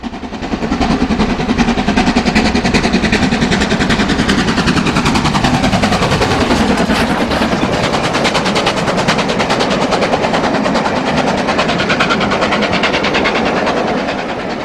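A Stanier steam locomotive works hard with a fast, loud, continuous chuffing exhaust beat that holds steady throughout, carrying a rhythmic rail clatter and no voices.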